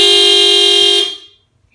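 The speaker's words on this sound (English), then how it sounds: "I turned the horn on and off." Car horn sounded through an Ancel V6 Pro scanner's active test, one loud steady honk lasting about a second and then cutting off abruptly into silence.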